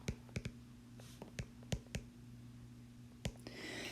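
Writing during an enzymes lecture produces sharp, close taps and clicks in an irregular sequence over a faint background hum, ending with a brief soft rustle.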